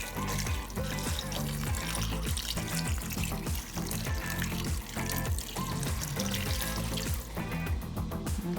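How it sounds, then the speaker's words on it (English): Water pours steadily into a soup pot holding beef neck bones, a continuous splashing trickle running for several seconds alongside faint clatter, with no voices. "I'm just gonna add a little water to the pot"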